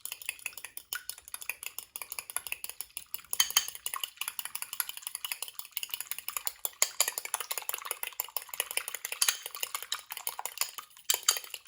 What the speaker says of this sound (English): I've cracked an egg into the bowl and it's saying give it a good whisk.